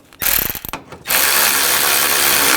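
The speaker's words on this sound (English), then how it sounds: "put the bolt in, and we'll tighten that down" Ratchet wrench tightening a bolt on a radiator mount of a 2004-2012 Chevrolet Colorado 3.7L, a short burst of rapid clicks, a pause, then a steady sustained run of close, loud ratcheting.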